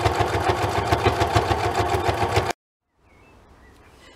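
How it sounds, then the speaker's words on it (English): Sewing machine running a quick stitch with a fast, rhythmic mechanical whir for a couple of seconds, then stopping abruptly into faint room quiet. "Right, I'm just going to run a quick stitch."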